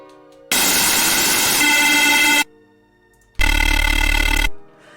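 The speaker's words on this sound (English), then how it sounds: "I layered two waves there, sub sine wave and a, you know, higher pitch thing, and then I run them through distortion" Two bursts of harsh, distorted synth tone from Phase Plant, a sub sine wave layered with a higher-pitched wave, a deep sub-bass underneath in the second burst, separated by a short quiet gap.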